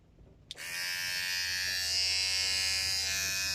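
A Vintage T9 cordless hair clipper switches on with a sharp click and settles into a steady, close electric buzz that hums on without a break.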